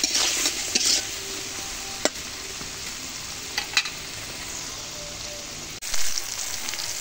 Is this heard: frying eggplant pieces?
yes